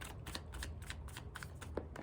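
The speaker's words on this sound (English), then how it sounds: "Stop shuffling." Tarot cards are shuffled by hand in quick riffling bursts, a series of close, crisp flutters and soft slaps coming in an uneven rhythm, quiet and without voices.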